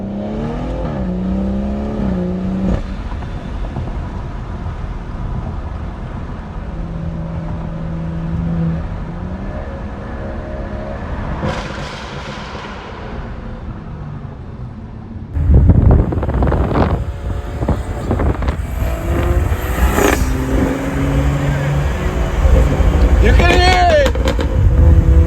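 Upgraded BMW car engine revving: an idling engine hum that surges into loud revs and rising acceleration in the second half, with wind buffeting the microphone and someone talking over it.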